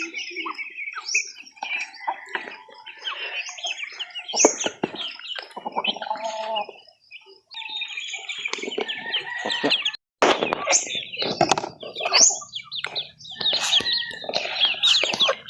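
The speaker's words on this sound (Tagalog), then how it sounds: "tapos na natin magpakain ng manok dyan sa loob guys" A flock of farm chickens clucking and squawking busily around feeding time, several birds calling at once close by, with scattered sharper cries and a crow-like call, plus occasional bumps and faint background voices.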